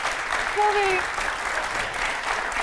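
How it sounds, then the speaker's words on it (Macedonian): An audience at a live show applauds for Milena Stefanovska, a steady wash of clapping throughout, with a brief voice over it. "Би сакал да дадете еден огромен аплауз за Милена Стефановска."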